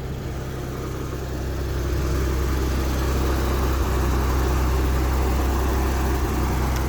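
A Chevrolet Corvair engine, just fitted with a new gas tank, idles steadily up close with a smooth low rumble and whir that swells slightly in level after the first moment, with no talking.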